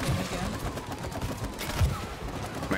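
Gunfire in the co-op video game It Takes Two, rapid shots popping steadily over a busy, dense game soundscape, moderately loud throughout the short stretch.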